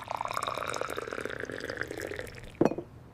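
Water pours into a tall glass in a kitchen, a steady trickling fill with small splashy drips, ending in a short louder splash near the end.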